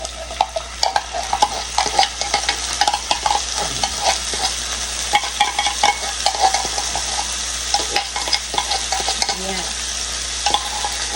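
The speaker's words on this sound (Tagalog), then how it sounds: "we're gonna add that Pure Food corned beef right here" Pure Food corned beef fries in a pan under a constant sizzle while a utensil stirs it, scraping and clinking against the pan in busy, close bursts.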